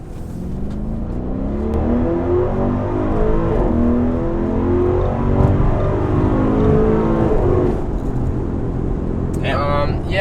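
A 2021 Audi RSQ8 SUV accelerating hard from inside the cabin, its engine note climbing in rising, stepped pulls through the gears, loud and steady, with a short burst of chatter near the end.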